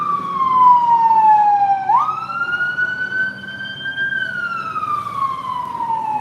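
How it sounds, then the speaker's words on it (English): A fire truck siren wails nearby, sweeping down, jumping up, then sliding slowly down again over a low engine rumble, with no talking. "Fire truck."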